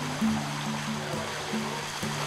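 Hot artesian bore water from deep underground gushes steadily out of a borehead at an outback spring, giving a continuous broadband rush of pouring water with a low hum running underneath and no talking.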